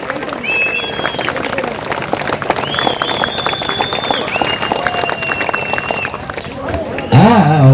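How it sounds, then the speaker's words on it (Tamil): Crowd applause and cheering at a traditional Tamil mallar kambam pole-sport show, a steady roar of claps and shouts throughout, with voices calling out over it and a louder burst near the end. "எல்லாம் கை தட்டுங்க. பலத்த கரகோஷம்"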